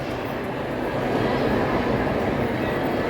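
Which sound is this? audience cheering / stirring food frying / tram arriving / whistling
tram arriving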